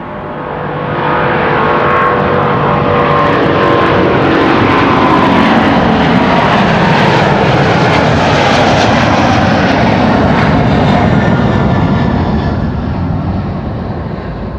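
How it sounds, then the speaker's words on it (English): KLM airliner, registration PH-BQI, on Flight 661 to Houston departing Amsterdam Schiphol, its jet engines swelling into a loud, sustained roar that builds over the first seconds and holds steady, with no talk. "Next up, KLM Flight 661 to Houston in Texas."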